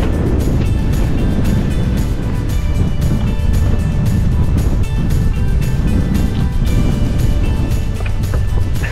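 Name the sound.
strong wind on mountain summit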